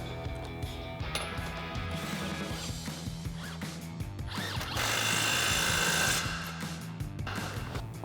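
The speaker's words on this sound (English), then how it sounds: "we tighten up this lower ball joint nut, so we'll do that now. We'll need our 24mm socket to tighten that back up." A socket wrench tightens the lower ball joint nut on a RAM 1500 front suspension, giving repeated clicking ratchet strokes and metallic taps, with a brief buzzing burst of a power tool midway, close in a garage.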